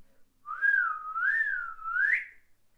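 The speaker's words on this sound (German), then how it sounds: "Der Kapitän macht einen Pfiff." A single sliding whistle, rising and falling in a wavy line for about two seconds, marks a sailing-ship captain's signal in a children's song. It sounds clear and alone.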